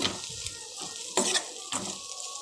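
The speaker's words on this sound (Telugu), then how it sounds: "ఒక్కసారి కలుపుదామండి ఒకసారి కలిపేస్తున్నానండి" A spoon stirs an okra and potato fry in a pan, giving close scraping and clinking strokes over a soft sizzle, with two sharper metallic knocks partway through and no talking.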